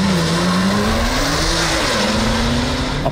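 A race car brakes hard before a chicane on a racing circuit. Its loud, close engine drones continuously, the pitch dipping and recovering, over a faint tire scrub.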